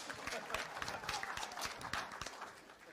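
A small audience claps for Ransom at a Sabbath Pathfinders gathering, brief scattered hand claps in an uneven patter, fairly faint, with voices murmuring underneath.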